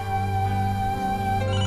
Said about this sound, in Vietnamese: em có điện thoại rồi, em vô nghe đây